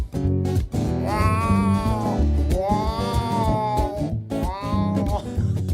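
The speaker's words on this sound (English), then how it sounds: "No, it's the pre-barf meow." A cat meows loudly and repeatedly right before throwing up, with long drawn-out, wavering yowls that rise and fall in three close, insistent calls, alone in the room.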